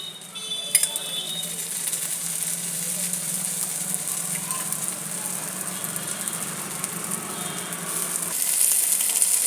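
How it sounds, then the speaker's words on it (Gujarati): Steady soft sizzling of a cheesy meesy sandwich toasting in oil on a griddle, a constant faint hiss with a few light clinks. "હવે એને બંધ કરી અને તવી પર શેકી દઈશું। અંદર તેલ મૂકીશું।"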